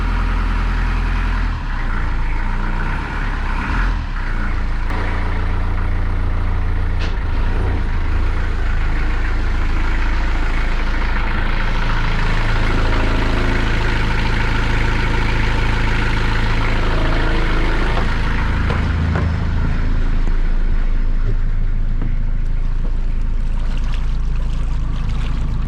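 A boat's diesel engine, on its first start in a long time, runs steadily and loudly, a deep continuous rumble with a throbbing low end that holds without a break throughout.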